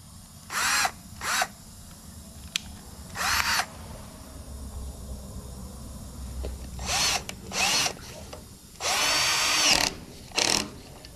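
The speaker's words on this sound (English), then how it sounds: "Just a self-tapping screw, goes through the hole now." Power drill driving self-tapping screws through holes into an agricultural grain cart cover, several short whirring bursts separated by pauses, close and clear.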